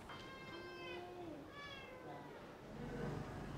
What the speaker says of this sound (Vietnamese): chị Nhung kiếm đâu ra con mèo béo thế mẹ nhỉ